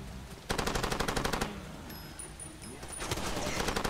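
Machine gun fire in the video game Far Cry 2: two rapid bursts of loud, rhythmic shots, the second longer, with a short lull between them.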